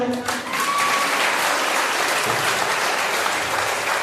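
A village library audience in India breaks into loud, steady applause that fills the room for several seconds, with a brief voice heard at the start.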